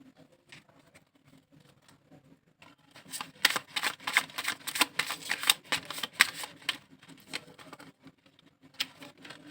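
Tarot cards being shuffled by hand, a quiet start giving way to a run of rapid, crisp riffling flicks that come close and fairly faint, with no talk.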